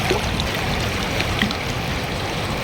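Strong, fast current of the Ganges river at Haridwar rushes in a steady, close, broadband roar of churning water with no pauses, filling the whole moment without voices.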